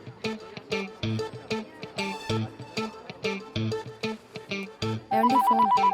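A phone ringtone plays a bright repeating melodic pattern of rhythmic tones, loud and close, cycling several times before shifting to a higher, faster ringing phrase at the end.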